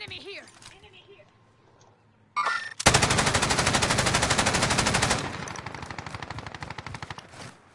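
Automatic gunfire from the video game Warzone: a dense, loud burst of rapid shots lasting a couple of seconds, followed by quieter continued firing, with a voice talking earlier in the clip.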